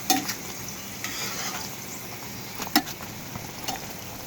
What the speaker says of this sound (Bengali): দেখুন ঠিক এভাবে করে আমি